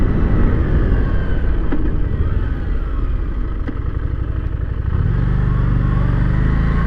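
A Harley-Davidson Street Rod 750 V-twin motorcycle rides on the road with a loud, continuous engine rumble and wind roar close up, and the pitch shifts near the end as the engine note steadies.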